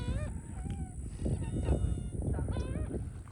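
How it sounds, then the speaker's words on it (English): Geese honk repeatedly in a busy flock at a wetland park, with many overlapping calls at middle distance over a steady outdoor background hum. "Look at these birds."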